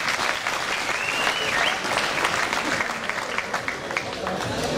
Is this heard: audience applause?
yes